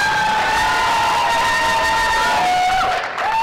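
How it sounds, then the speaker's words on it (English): Town hall audience cheering and whooping loudly for a mayoral candidate introduction in a Baltimore schools forum, a sustained roar of voices with whistles carrying over it. "You're allowed to cheer now."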